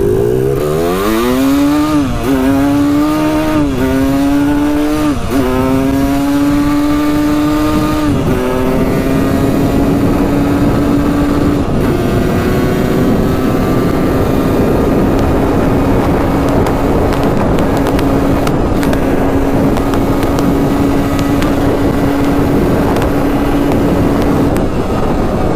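A Honda TRX250R two-stroke ATV engine screams at full throttle, climbing through several gear shifts before holding a steady, loud high-pitched wail at top speed, with wind noise roaring underneath.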